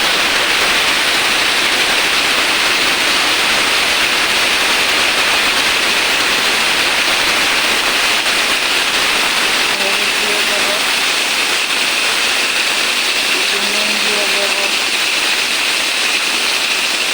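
Tomatoes added to hot oil with fried dried red chillies produce a loud, constant hissing sizzle, a steady wash of noise from start to finish with a faint voice briefly in the background.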